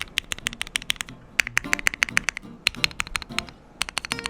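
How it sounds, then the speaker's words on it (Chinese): Rapid clacky keystrokes from a modded secondhand Keychron Q8 Alice-layout mechanical keyboard, close and crisp, typing in quick bursts with brief pauses. "让我们来听听看它的打字音吧。"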